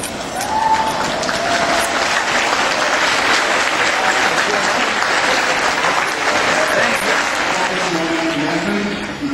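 A large crowd gives a standing ovation at Heidelberg University's 2010 commencement, dense sustained clapping that fills the hall at an even loudness throughout, with faint cheers and voices mixed in.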